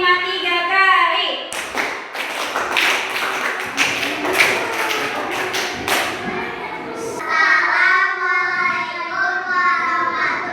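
A classroom of children claps a rhythmic pattern repeated three times, several seconds of loud, closely spaced group claps with distinct accented strikes, framed by someone speaking before and after.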